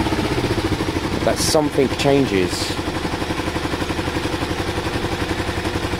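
A Kawasaki ER5 motorcycle engine under restoration runs nearby with a steady, rhythmic idle pulse and a brief rev in the middle. Someone talks over the engine sound.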